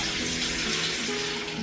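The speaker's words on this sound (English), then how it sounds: "What I like to do is take a bowl and I'm going to fill it with some just lukewarm water" Lukewarm water runs steadily from a kitchen tap into a bowl, a constant splashing hiss with a faint rising tone as the bowl fills, heard alone without talk.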